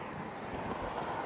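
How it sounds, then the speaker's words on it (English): Wind blows outdoors in Birmingham, Alabama, a faint, brief rushing buffet against the microphone with no other distinct sounds. "And it might be a little windy."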